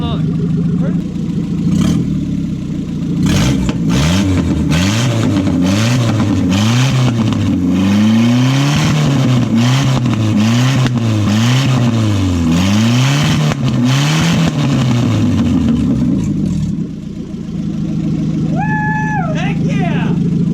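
Japanese muscle car engine, a $750 project car barely running, revving repeatedly in rising and falling bursts over a rough idle, loud and close, with people talking and shouting over it.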